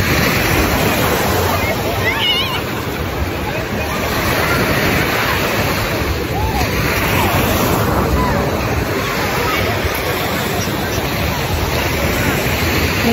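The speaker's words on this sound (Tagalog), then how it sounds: "The waves is calling." Ocean surf washing onto a beach at Bolinao, a steady broadband roar of breaking waves close by, with faint background voices of people on the shore.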